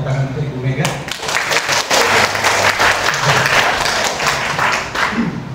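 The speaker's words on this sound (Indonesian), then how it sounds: "Tepuk tangan untuk Ibu Mega." Loud audience applause at a health product presentation, breaking out sharply after a brief moment and continuing as dense, close clapping from a crowd, with some voices mixed in.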